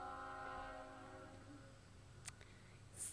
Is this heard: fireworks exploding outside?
no